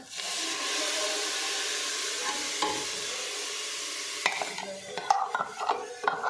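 Tomatoes going into a pan of fried potatoes for restaurant-style matar paneer: a steady close sizzle with a spoon stirring and scraping the pan, clinks and stirring growing busier near the end.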